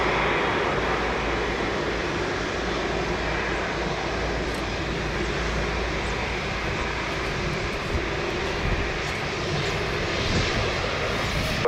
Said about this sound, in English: Incredible landing that Air Canada, wow.